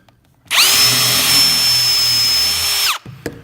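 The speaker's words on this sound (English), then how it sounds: "now I need to put my countersinks in" A power drill bores countersinks for screw heads in a first-year woodworking project, one loud steady whine lasting about two and a half seconds, close by, then spinning down to stop.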